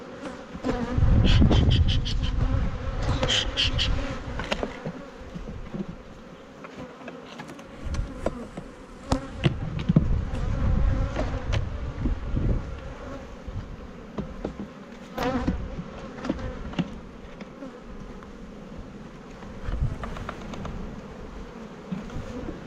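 Honey bees swarm around hives in a nuc yard, a dense, close buzzing that fills the whole stretch with individual bees zipping past the listener, along with occasional knocks of hive equipment.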